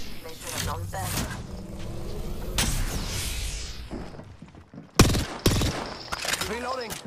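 Gunfire in the video game Apex Legends: rapid bursts of automatic shots and sharp single cracks, loud and close, with a pause before a fresh volley of punchy reports, mixed with game effects and a character's voice.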